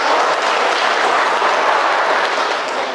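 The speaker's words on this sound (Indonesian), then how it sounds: "tepuk tangan." Indoor applause at a gathering of Islamic religious counsellors in Gresik, greeting colleagues from Mbawean: loud, thick clapping from a large crowd, steady throughout and easing only slightly at the end, with no speech over it.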